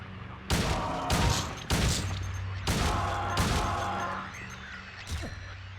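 Gunfire in Silent Hill 2 Enhanced Edition, several loud, close shots spaced a second or so apart over a low droning game ambience, with no talking.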